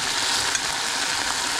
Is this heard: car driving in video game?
no